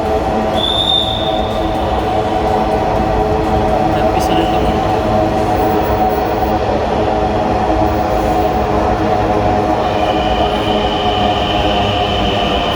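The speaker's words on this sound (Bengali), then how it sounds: "দেখাচ্ছে আমাদের কাঙ্ক্ষিত মেট্রো রেল।" A metro rail train pulls into a station platform with a steady, loud rolling rumble and a brief high whine, while voices and announcements carry on through the background.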